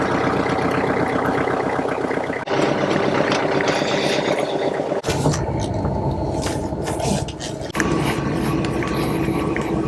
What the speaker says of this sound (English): and I'll pull the tractor out of the way.